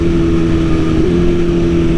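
A BMW S1000 motorcycle engine drones loud and steady with a strong tonal hum, holding its note through a brief pitch shift while riding with clutchless downshifts.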